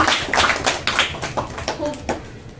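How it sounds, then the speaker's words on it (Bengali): An audience at a school assessment event claps in a quick, uneven burst of applause that stays fairly close and loud, then gradually thins out. "একটা জোরে হাততালি"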